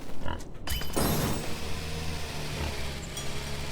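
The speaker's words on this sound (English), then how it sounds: "Oh, the tractor has a new sound." Tractor engine in the farming video game Farm Together, a mild steady idling hum with a low droning tone and some creaky mechanical rattles near the start.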